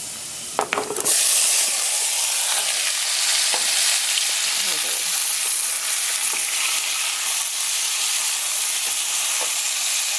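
Tomatoes added to garlic in a hot frying pan for Vietnamese chicken ragu, an initial clatter then a loud, continuous close-up sizzle that hisses steadily for several seconds with no talking.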